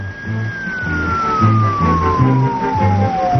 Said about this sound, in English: A police car speeding past with its lights flashing and its siren wailing.